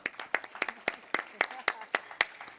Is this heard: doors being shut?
no